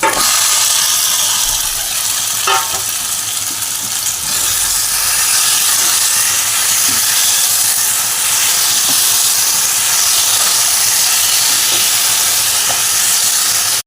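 Chicken pieces hit spiced potatoes in a hot oiled pan, bursting into a loud, bright, continuous sizzle and hiss that holds steady close up, with faint stirring clicks.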